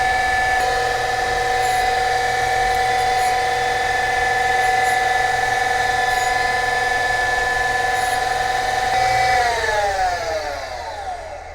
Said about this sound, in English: Plus I get to use my surface grinder.